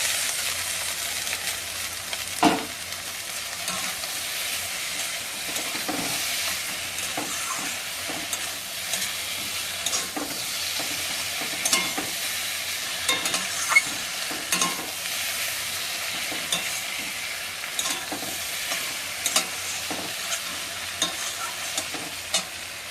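Potatoes are stirred and fried in cooked-down spice masala for a fish curry, giving a steady sizzle with repeated scraping and clacking of a spoon against the pan throughout, without any talking.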